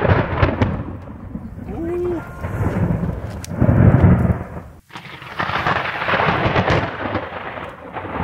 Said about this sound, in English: the most intense lightning barrage I have ever survived